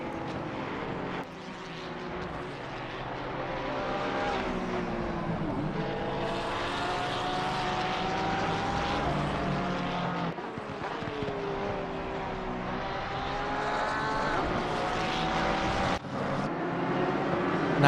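GT racing cars in the GT Americas class, including a Ferrari, Porsche, McLaren and BMWs, racing at Spa-Francorchamps in a racing video game, engines droning and shifting pitch as a pack runs close together, loud and continuous with no talk.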